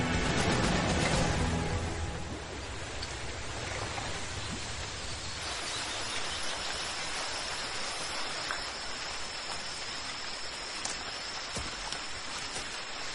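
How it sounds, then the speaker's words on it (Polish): Heavy downpour of rain in a snake-filled valley, a dense steady hiss of falling water, loudest at the start and then settling into a constant wash with no voices. "Ulewa utrudnia mi wędrówkę."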